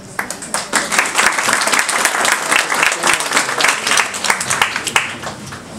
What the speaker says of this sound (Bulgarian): Нечии аплодисменти приличат на ремонт.